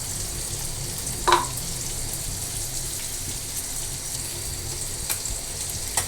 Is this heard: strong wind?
no